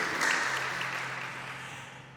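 A church congregation claps and applauds after a sermon reading, a soft, fairly distant wash of clapping that fades gradually over about two seconds.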